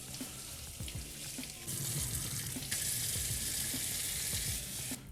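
A kitchen tap runs water over a surface to rinse off a cleaning paste made from baking soda, vegetable oil and liquid soap, giving a steady close hiss and splash that grows stronger partway through.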